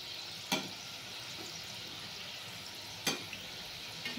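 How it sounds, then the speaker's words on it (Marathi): Bakarwadi fry in hot oil over a medium gas flame, giving a steady soft sizzle throughout, broken by two sharp crackles or spatters. "एखाद दुसरा मिनिट आपण हे फ्राय होऊ देऊया"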